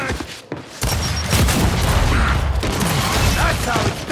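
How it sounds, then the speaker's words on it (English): A frag grenade blast in Gears 5 free-for-all multiplayer on the Foundation map, a loud booming burst amid continuous clattering gunfire and mechanical noise, with a voice shouting over the chaos. "Throwing frag!"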